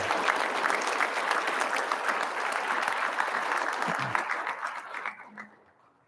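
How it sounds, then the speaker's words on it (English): A banquet audience at a sports hall of fame ceremony applauds an award inductee, with a steady, full round of clapping that fades out over the final second. "Let's give her a round of applause."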